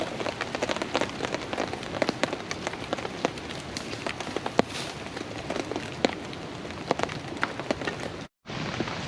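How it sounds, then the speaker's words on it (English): Steady rain falls outdoors in wet bushcraft conditions during fire lighting, a dense continuous patter of drops on surfaces close by, with scattered sharper drips and a brief drop-out near the end. "because it's obviously raining"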